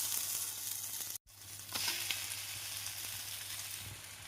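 Masala dosa frying in oil on a hot pan, a steady close hiss and sizzle with a brief cut near the start, then continuing evenly with faint crackles.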